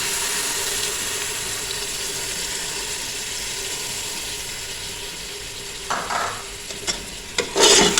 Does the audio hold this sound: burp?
no